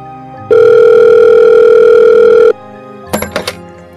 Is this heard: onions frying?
no